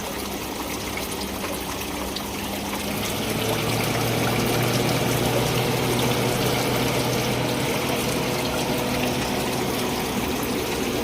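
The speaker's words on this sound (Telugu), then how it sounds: "మొత్తానికైతే కూలర్ అయితే పనిచేస్తుంది" Constant whooshing hum and splashing water of a water-filled air cooler running nearby, getting slightly louder partway through and staying steady.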